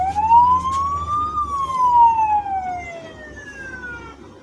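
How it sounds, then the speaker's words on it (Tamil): An AI auto-tracking security camera sounds its alarm siren, a loud electronic tone that rises and then slowly falls in pitch, close and alone with no talking. "சைரன் அடிச்சுக்கிட்டே இருக்கும், நிற்காது."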